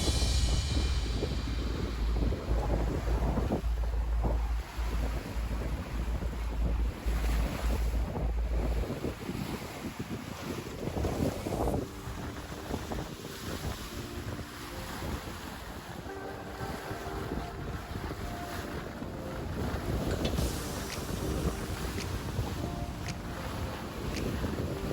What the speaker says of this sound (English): when the winds are howling and the waves are crashing against the hull